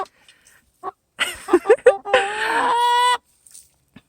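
A hen in a backyard garden makes a few short, close clucks that build into a longer, loud squawking call, then quiets, with scattered faint noises around it.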